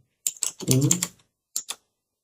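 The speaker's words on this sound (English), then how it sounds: "So then file name, you type a file name." Several quick bursts of computer keyboard typing, a busy cluster of keystrokes followed by a pause and two more short taps, close and clear with no talking.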